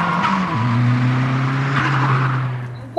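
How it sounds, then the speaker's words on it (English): A car on a road in a radio-play sound effect twists and swerves. A loud, close engine roar blends with a drawn-out tire squeal that bends in pitch as the car slews along. "The car twisted and swerved."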